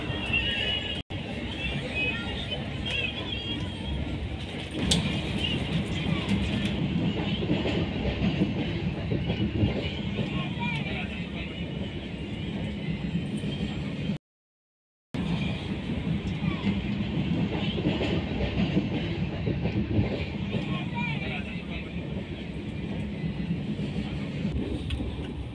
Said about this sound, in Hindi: लेकिन ट्रेन की स्पीड काफ़ी तेज थी